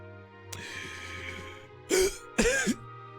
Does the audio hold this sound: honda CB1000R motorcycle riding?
no